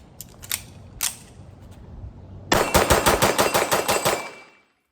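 A Springfield Operator 9mm pistol fires a few spaced shots, then a fast string of about nine sharp, loud reports in quick succession, close by at an outdoor range.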